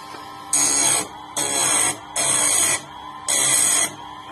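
A Mächtz MSS 3510 chain sharpening machine grinds in four bursts of about half a second each, a loud bright whine with short pauses between passes.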